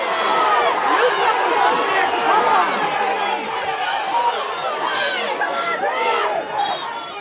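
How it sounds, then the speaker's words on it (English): A hurling crowd at an All-Ireland club championship semi-final shouts and cheers continuously, loud and dense, with a commentator talking over it. "Crowd urging each other on here now at the minute"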